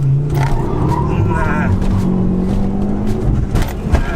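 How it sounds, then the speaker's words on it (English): A stage 2 Ford Focus ST launches hard with wheel spin, the engine revving and rising in pitch amid tire noise, while a person talks over it. "No run, far too much wheel spin"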